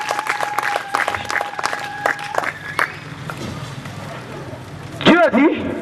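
A church congregation at an evening evangelism gathering in Brazzaville claps and cheers loudly, with sustained applause and voices fading after a few seconds before a sharp, wavering vocal cry near the end.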